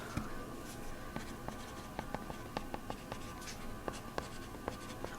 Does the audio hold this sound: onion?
no